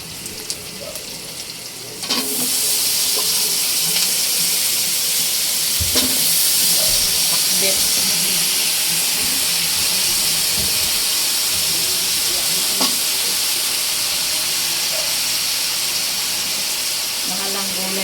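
Mixed vegetables sizzle steadily in a hot pan with garlic, onion and shrimp paste for Filipino pinakbet, a loud continuous frying hiss that swells after the first two seconds and holds with faint clinks.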